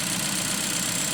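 A Ford Fiesta's naturally aspirated 1.6-liter Sigma four-cylinder engine runs at a steady idle, a constant close hum heard alone for a moment.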